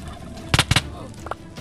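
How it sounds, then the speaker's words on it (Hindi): Chicken in Minecraft, two quick loud clucks close together followed by a softer third a moment later, over faint background noise. "ये क्रिसमस वाली मुर्गी है, हेलो क्रिसमस वाली मुर्गी, ये अंडा भी देती है यहाँ।"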